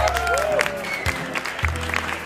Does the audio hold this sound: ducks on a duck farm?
no